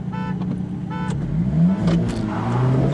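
Two cars, a BMW M2 Competition and an Alfa Romeo 4C, launch side by side in a wet drag race, with a loud engine roar rising in pitch over three seconds after a few short horn toots.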